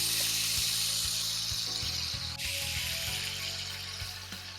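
Pomfret fish coated in green masala fries in a pan with a steady, loud broadband sizzle, and soft clinks and taps sound now and then beneath it.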